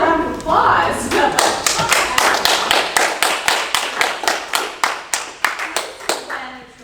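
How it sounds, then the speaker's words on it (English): Applause breaks out at a Waunakee housing task force meeting, a burst of many hands clapping that settles into a steady, fairly close round before tapering off near the end. "I think we deserve a round of applause."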